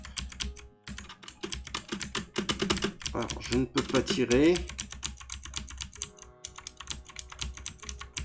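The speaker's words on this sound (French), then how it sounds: "vous entendez très certainement les bruits de mon clavier" Rapid computer keyboard clicks patter close up in irregular bursts, while a person speaks briefly over the typing.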